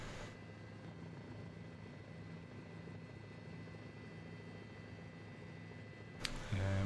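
A simulated helicopter flies in Microsoft Flight Simulator 2004 near a hospital rooftop helipad in Las Vegas. Its rotor and engine drone steadily and faintly, then end in a brief louder shift.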